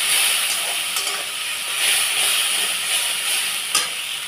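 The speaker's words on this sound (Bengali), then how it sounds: "আমি এই মশলাটাকে ভালো করে কষাবো" A spice masala of turmeric, cumin, chili, tomato and ginger paste frying in a pan gives a steady, loud, close sizzle and hiss, with a few faint stirring scrapes and no voices.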